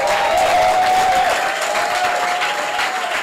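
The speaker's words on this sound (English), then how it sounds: "let's give him a standing ovation" A church congregation gives its pastor a standing ovation, with loud, continuous clapping from a large crowd and a faint tone ringing through it.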